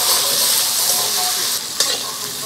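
Chopped tomato drops into hot spiced tempering of ginger paste, turmeric and cumin, setting off a loud, steady sizzle with stirring scrapes and a sharp burst of spatter near the end.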